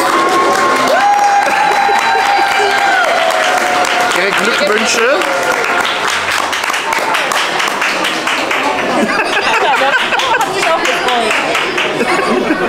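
Crowd clapping for birthday guests at a Disneyland Paris princess celebration, steady applause mixed with light laughter and chatter, with a voice speaking over it near the start.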